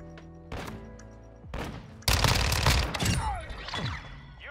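Bursts of gunfire in the Modern Warfare 2 video game: a short burst near the start, another around a second and a half, then a loud sustained fusillade mixed with thuds and booms, with no talking.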